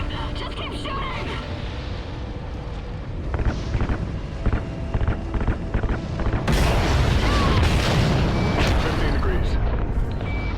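Ignited RCS fuel lines and firing thrusters in the video game Call of Duty Ghosts: a continuous roaring, rushing blast that surges louder partway through, with scattered bangs of gunfire mixed in.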